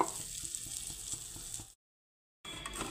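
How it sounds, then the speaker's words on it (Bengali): Vermicelli fries gently in ghee on low heat after cashews and raisins, making a soft steady sizzle that cuts out briefly to silence before resuming. "এখন ওই ঘিয়েতে আমি সিমুইগুলো ভেজে নেব।"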